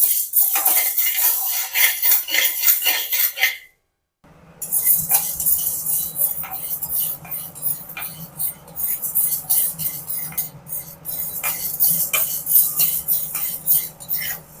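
Curry leaves dry-roast in a pan with no oil, with repeated scraping and clinking of a metal spoon against the pan, close and fairly loud, broken by a brief silent gap.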